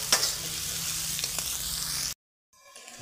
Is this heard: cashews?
yes